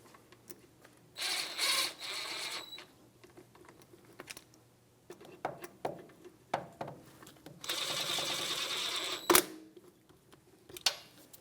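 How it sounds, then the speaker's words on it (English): Ratcheting of a lightweight 3/8 drive with a 17mm socket snugging rear brake caliper bolts on a 2010-2023 Toyota 4Runner, two bursts of rapid clicking with scattered metallic taps between them, close and fairly quiet. "I'm going to take a lightweight drive, 3/8, and just snug them up before I torque them."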